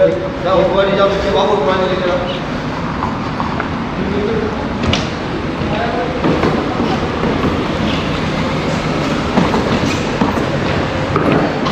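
A metro train rumbles along with a steady rolling roar and faint rhythmic clatter, while people talk nearby throughout, in Doha, Qatar.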